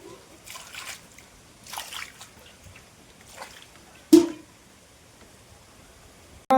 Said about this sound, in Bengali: এবার একটু জল আছে পাটা ধুয়ে দিলাম